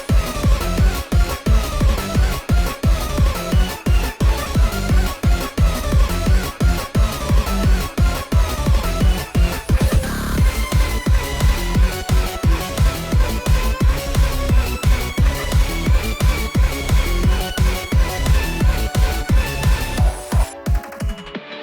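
A chase theme, a Cool Kid skin track from the Roblox game Forsaken: a loud, driving electronic tune with punchy, evenly spaced bass hits and bright synth melody, steady throughout before cutting off abruptly at the end.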